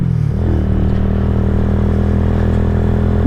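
A KP Mini 150 motorcycle with a new muffler idles close by, not yet fully warmed up, a steady, loud putter that rises slightly just after starting and holds even throughout.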